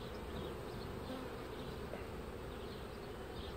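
Honeybees buzz at an opened hive during a colony split: a dense, continuous, close-up drone of many bees, steady throughout with no voices.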